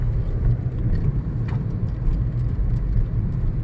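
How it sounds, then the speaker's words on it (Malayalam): Steady rumble of cars on a road at Moscow Junction near Vadavathoor, Kottayam, a continuous low drone of passing traffic close by with no talk. "കുറേ കാറുകളൊക്കെ ഉണ്ട്"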